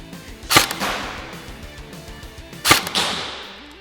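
Airsoft BBs from an M4 strike a metal target during a shooting contest, giving two sharp, distinct impact cracks about two seconds apart, each trailing off into a short ringing decay. No voices are heard.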